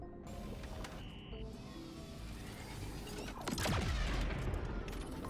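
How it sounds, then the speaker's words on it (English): Gunfire in the video game Galacticare, a dense, chaotic burst of game sound effects that swells louder in the second half, with no talking. "Oh no, we do hear that gunfire."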